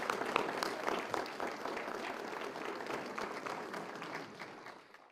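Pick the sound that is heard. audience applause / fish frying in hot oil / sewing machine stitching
audience applause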